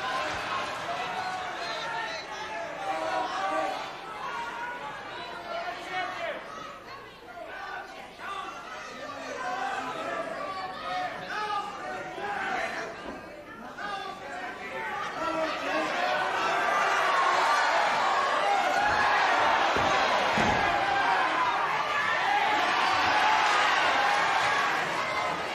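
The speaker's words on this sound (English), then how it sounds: "And the crowd going mad for him to do more." A wrestling crowd at a live match between Mark Rocco and Chris Adams roars and chatters continuously, the noise swelling louder toward the end, with commentary talk running over it.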